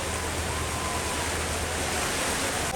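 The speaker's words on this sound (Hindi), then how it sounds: "आज जी शहर की बारिश भी देख ली।" Heavy rain pouring down in a city, a dense, loud, steady hiss of water filling the whole short stretch with no breaks and no voices.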